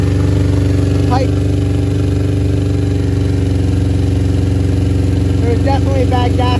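A 1992 Suzuki Katana 750 (GSX750F) motorcycle engine, long idle and carrying bad gas in the carburetors, runs at a steady, loud idle throughout, with brief light chirps and rattles over the top.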